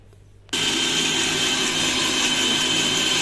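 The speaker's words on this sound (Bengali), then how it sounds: "এই দেখো কাজু, পোস্ত আর লঙ্কা বেটে নিচ্ছি।" An electric grinder starts abruptly and runs in a loud, steady whine while grinding cashews, poppy seeds and green chillies into a paste, close up and uninterrupted after a brief quiet start.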